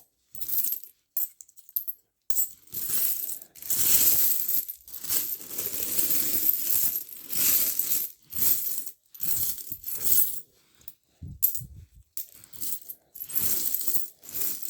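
Commemorative coins clink and jingle in bursts as they are sorted and handled by hand, close and bright metallic rattling with short silent pauses between handfuls.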